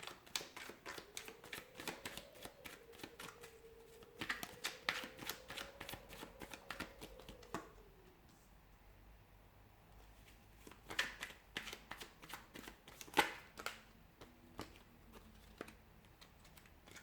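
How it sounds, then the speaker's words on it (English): Tarot cards are shuffled up close in quiet bursts of rapid riffling and soft papery flicks, broken by a brief pause and a few scattered taps and slaps of the deck. "We'll give the cards a shuffle and see what's coming up for you."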